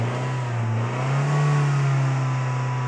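A car engine is held at steady elevated revs of about 2,000 to 2,500 RPM during an alternator load test, a smooth continuous drone that swells slightly midway, close and with no talking.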